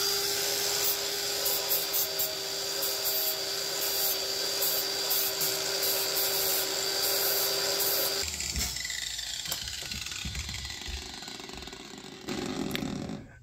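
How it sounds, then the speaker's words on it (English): A bench grinder fitted with a flapper disc whirs steadily and up close, grinding on a part for a mini chopper. The tone shifts partway through as the load changes, and a brief louder grinding burst comes near the end. "Got my Economy Freight bench grinder here."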